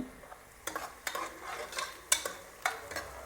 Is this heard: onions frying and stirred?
yes